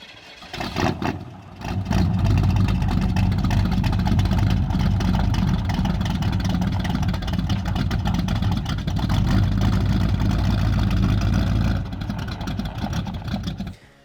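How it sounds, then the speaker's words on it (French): A Chevrolet Chevelle with a 327 cubic inch V8 runs at a loud, steady idle close by, briefly dipping before settling into a sustained rumble that eases slightly near the end. "maintenant la sonorité, et c'est le gros point fort de cette Chevelle, j'ai trouvé, avec son 327 cubic inch"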